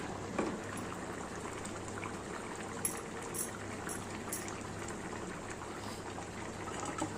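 Steady low bubbling and simmering of ivy gourd gravy in a pot on the stove, a continuous soft churning with occasional faint clicks, no voices.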